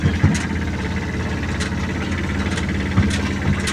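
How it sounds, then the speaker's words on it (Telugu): Tata Ace mini truck reversing on muddy, soft ground on a poor road to a buffalo farm, loaded with cement roofing sheets; a low, steady engine idle and rumble with a couple of brief louder bumps, no talking. "ఎలాగలాగ రివర్స్ చేసుకొని వచ్చాను అక్కడికి జంకింది ఎందుకంటే మన టాటా ఏసీ కదా"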